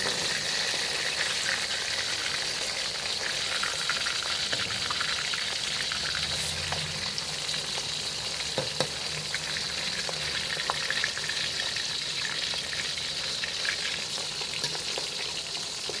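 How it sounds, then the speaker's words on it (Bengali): Pieces of katla fish fry in a pan with a constant soft sizzle and crackle, a few faint clinks and turning sounds breaking in, and no voices. "বাকি মাছগুলো আমরা এবারে ভেজে নেব।"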